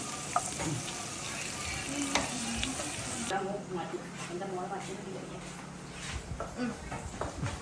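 Ginger and garlic frying in hot coconut oil give a steady sizzle with occasional stirring scrapes against the pan, close and moderate in level, while someone talks over the cooking.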